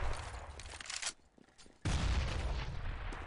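Bursts of Counter-Strike gunfire in a competitive ESEA match, loud rapid shots with a brief lull before another heavy burst of firing.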